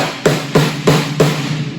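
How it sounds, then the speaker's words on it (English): Four evenly spaced hits on a low, fat fiberglass snare drum with old pinstripe heads, each crack ringing into a sustained buzzy tone, close and fairly loud with no talking. "The snare sounds like this."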